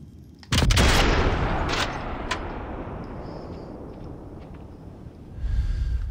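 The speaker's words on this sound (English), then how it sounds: "Gunshot heard." Gunfire in the video game Sniper Elite 5: one loud sharp shot near the start that rolls into a long echoing rumble, with a few fainter distant cracks afterward and a muffled thump near the end.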